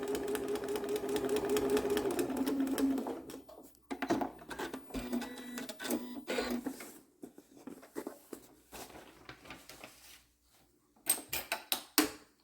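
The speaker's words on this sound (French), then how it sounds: "Je vais mettre mon aiguille à la bonne place. Et on part. Donc, on coud sur la ligne." A sewing machine stitching along a line on a quilt with a log cabin pattern, a steady close whirring run for a few seconds, then short intermittent bursts with pauses and handling noises between.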